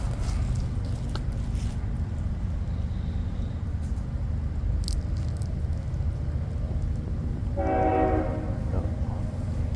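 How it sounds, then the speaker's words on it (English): A distant train passes near a quiet outdoor bushcraft spot, a steady low rumble throughout with a brief horn-like tonal blast swelling near the end. "Right on time, the train."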